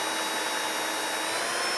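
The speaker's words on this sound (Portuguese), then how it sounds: "Quando eu tiver aberto os 3 furos com a furadeira" A power drill bores holes into an electric scooter part, giving a loud, steady, high whine that runs unbroken throughout.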